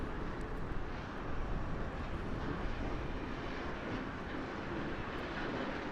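A Southwest airliner departs Harry Reid International Airport in Las Vegas, heard as a faint, distant, steady jet roar that rumbles evenly throughout, with no talking.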